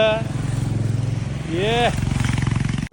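A motorcycle engine putters steadily nearby with a rhythmic low throb on a mountain road near Bageshwar, and a voice rises briefly over the engine noise.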